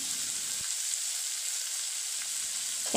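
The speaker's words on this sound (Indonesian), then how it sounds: "setelah semua bahannya tertumis sampai berbau harum" Ingredients stir-fried in a home kitchen pan give off a steady, close sizzling hiss that runs continuously, with a few faint clinks of stirring.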